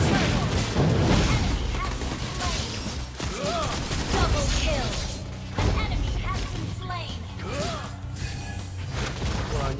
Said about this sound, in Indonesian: Tembakan hujan api.